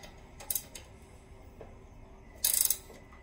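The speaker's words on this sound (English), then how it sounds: "Now all you have to do is tighten up your two bottom 17s." A ratchet tightens the two bottom 17mm riser bolts on a Coleman CT200U mini bike's springer suspension, giving quiet clicking with two short louder bursts of rapid ticks.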